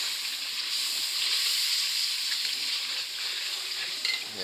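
Masala for aloo chicken sizzles and fries steadily in a hot pan while being stirred, a dense continuous hiss with faint scraping, close and fairly loud throughout.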